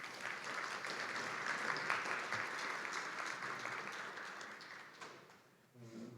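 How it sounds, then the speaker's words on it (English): An audience at the Dayton Democracy Summit gives a full round of applause, a dense and steady wash of clapping that tapers off near the end as a voice begins. "Please give yourselves a round of applause."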